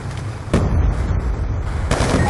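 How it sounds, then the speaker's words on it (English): Hellstorm missile strikes land in a video game match as a loud, booming blast that begins sharply and rumbles on, with a second heavy impact close behind. "Friendly Hellstorm missile inbound"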